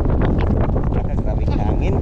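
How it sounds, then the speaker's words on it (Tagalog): Strong wind roars and buffets the microphone with constant low rumbling noise, loud and unbroken, at an outdoor fishing spot. "Grabe hangin."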